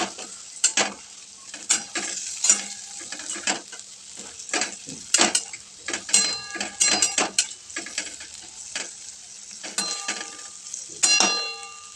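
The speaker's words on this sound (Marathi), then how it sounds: "तेलामध्ये छान बटाटे परतून घ्यायचे" Boiled potatoes are sautéed in oil with a soft sizzle underneath frequent metallic scrapes and clangs of a spoon stirring in the pan, irregular and close.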